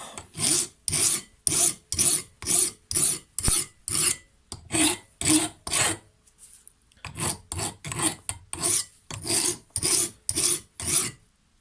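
A hand file rasps a metal part of a Stihl FS 55 string trimmer clamped in a small vise, with steady rhythmic back-and-forth strokes and a brief pause midway. The strokes are close and clear, with no talk.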